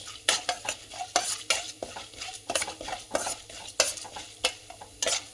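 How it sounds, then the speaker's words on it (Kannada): Urad dal and chana dal fry in a pan while a spoon stirs them constantly, giving rapid scraping and rattling strokes over a faint, steady sizzle, close up and without talking. "ಸ್ವಲ್ಪ ಉದ್ದಿನಬೇಳೆ ಕಡಲೆಬೇಳೆ ಫ್ರೈ ಆಗಲಿ, ಕೆಂಪು ಆಗಲಿ,"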